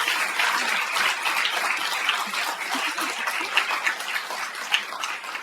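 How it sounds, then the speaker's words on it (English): An audience in a large, sparsely filled lecture room applauds in a steady, even patter of many hands that holds for several seconds, moderately loud, with no talking over it. "Can we have an applause?"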